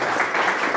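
Audience applause during a talk on five centuries of history in two Caribbean coastal cities, a dense steady clatter of many hands lasting under a second with no voices.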